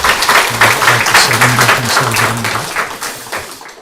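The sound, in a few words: congregation applause welcoming newcomer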